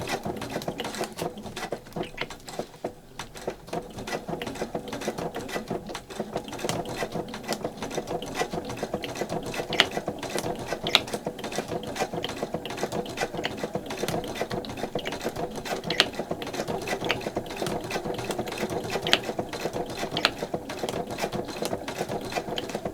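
A vintage sewing machine stitches through several thick layers for a pocket journaling card, giving a steady, rapid mechanical clatter that runs close and loud without a break, with no voices.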